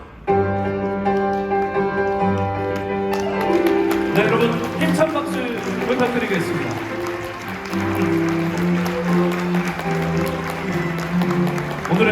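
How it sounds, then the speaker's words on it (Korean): Wedding guests at the InterContinental COEX hall clap and cheer as the groom enters. Their applause swells in over loud, sustained processional music and continues underneath it. "뜨거운 축복의 박수와 함성을 가득 보내주시기 바랍니다"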